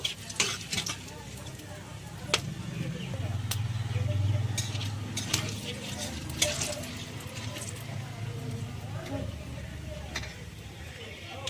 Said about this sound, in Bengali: আমি ফোড়নগুলো তেলেতে দিয়ে দিলাম। ফোড়নগুলো একটু লালচে করে ভেজে নেব